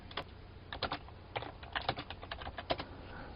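Typing on a computer keyboard while entering network commands, a brisk run of close, crisp key taps in uneven bursts with brief pauses between them.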